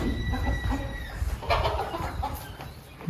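A hen clucks close by in a rural yard, with a few short, uneven bursts over about three seconds against a faint background, with no talk.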